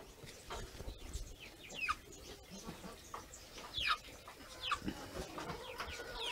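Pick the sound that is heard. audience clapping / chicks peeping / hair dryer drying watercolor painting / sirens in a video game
chicks peeping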